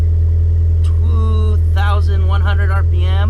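A Geo Metro (Suzuki Swift) swapped with a Toyota 4A-GE 20-valve Black Top engine idles steadily at about 1,100 RPM with a low, constant rumble throughout, while someone talks over it.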